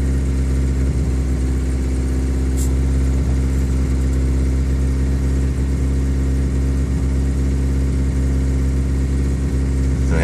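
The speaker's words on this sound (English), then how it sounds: "the noise and the popping is the exhaust leak" A 1989 Geo Tracker engine idles steadily up close, its low droning exhaust broken by faint irregular popping from an exhaust leak, running continuously with no talk.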